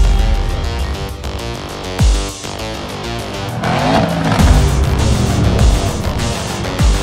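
Audi cars racing, engines revving loud and close with rising and falling pitch as they pass, and a brief tire squeal partway through.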